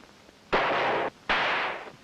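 Two loud, sharp gunshots in a radio drama, each a broad blast that rings for about half a second with a brief gap between, standing alone without talk.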